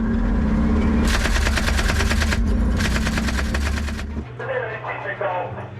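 Soldiers firing guns during an army field exercise, bursts of rapid automatic fire over a constant engine-like rumble, loud and close, then easing into lighter scattered sounds.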